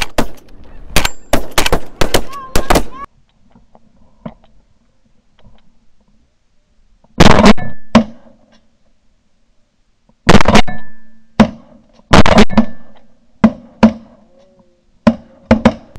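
Shotgun blasts from a 20 gauge ring out during a snow goose hunt, sharp loud reports in short bursts amid a dense chorus of honking snow geese, with quiet gaps between volleys.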